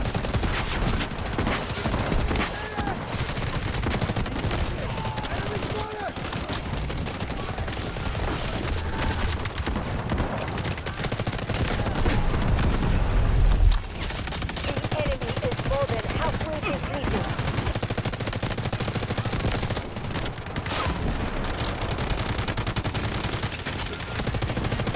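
M4A1 rifle fire in the shooter game Delta Force, with dense, loud, continuous bursts of automatic gunfire and combat noise sustained throughout.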